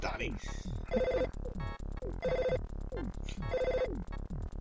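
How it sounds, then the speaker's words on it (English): A telephone rings in the video game EarthBound, its repeating electronic trill coming in three regular bursts over a busy backdrop of game music. "Phone's ringing."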